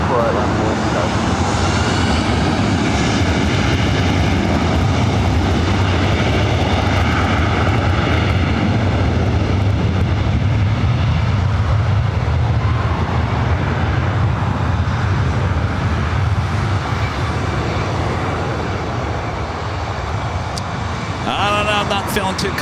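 An airliner takes off from runway 24 Right at Los Angeles International Airport, a loud, sustained jet engine roar close by that slowly fades over about twenty seconds, with radio talk faintly audible.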